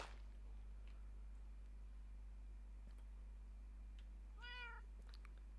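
A Minecraft cat gives a single short meow near the end, faint and alone over a steady low in-game background hum.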